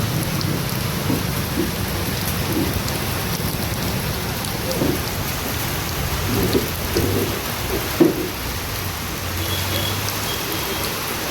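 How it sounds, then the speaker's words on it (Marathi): Heavy afternoon rain with thunder and lightning in Dindori taluka, Nashik, pours in a dense, continuous roar, with faint low rumbles of thunder beneath and no voices. "खतरनाक पाऊस झाला आहे मित्रांनो, बघू शकता"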